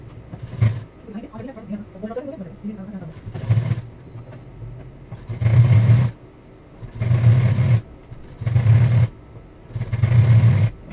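Sewing machine stitching layered saree fabric into a door mat, running in four or five distinct bursts of a couple of seconds each with pauses between, close and fairly loud, with someone speaking in the gaps.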